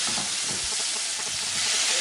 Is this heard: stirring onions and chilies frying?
yes